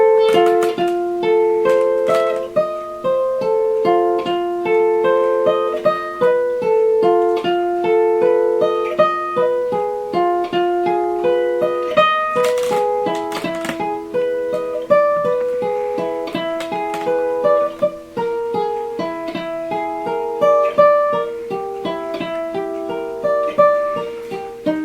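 A chord exercise played first descending and then ascending, each chord struck and ringing in a steady rhythm, clear and close with no talking.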